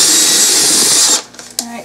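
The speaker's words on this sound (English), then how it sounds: "So that's going to require me to drill a hole." A loud, steady high-pitched whine of a power drill boring a hole for a gourd bird craft runs for about a second, then cuts off, leaving quieter handling noises.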